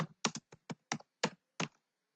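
A short burst of typing on a computer keyboard, about eight distinct clicky keystrokes at an uneven pace, close and clear, then silence.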